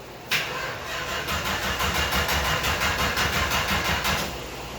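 A 1964 Dodge Dart engine cranking in a rapid, steady rhythm of starter pulses for several seconds, loud and close, then easing as the cranking stops.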